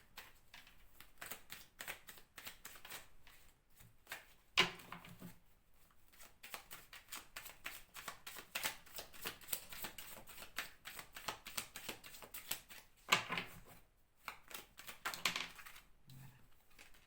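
Tarot cards being shuffled, a long run of rapid, crisp flicking riffles with a few brief pauses, close and fairly quiet.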